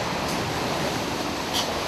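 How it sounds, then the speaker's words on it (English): Hurricane Katrina storm surge in Gulfport, Mississippi, a continuous loud roar of churning water and wind, with a broad crashing swell near the end. "Big wave, big wave, big wave."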